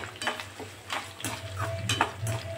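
Dried red chilies fry in hot oil with a faint, soft sizzle, broken by a few quiet scrapes of a stirring utensil against the pan.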